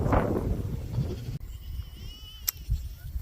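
Goats bleat on a farm, a close, loud cry at the start followed by quieter livestock noise and a short sharp sound.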